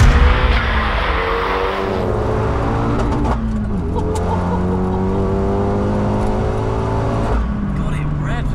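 A tuned 340 bhp fully forged Renault Megane RS250 Cup engine runs loud and near, revving up through several gear changes with rising and falling pitch as it drives off.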